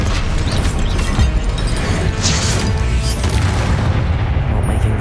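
A Confringo spell explodes in the Hogwarts Legacy video game, a loud, continuous booming blast with crashing, rumbling debris that stays dense and heavy for the whole stretch.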